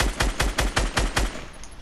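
Rapid burst of about seven sharp gunshots in Fortnite, evenly spaced and close, then fading into quiet.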